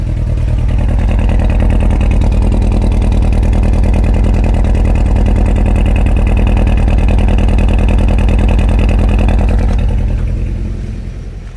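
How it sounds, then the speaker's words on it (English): A Volkswagen Golf GTI engine idles after a cold start with a misfire, a steady close low rumble that runs evenly throughout and tapers slightly at the end. "It's definitely misfiring."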